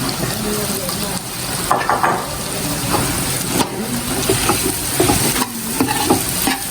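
Pork chao fan, a pork fried rice, sizzles loudly in a pan as cooked rice is added and stirred, with repeated scraping spatula strokes over the continuous frying hiss and a voice faintly in the background.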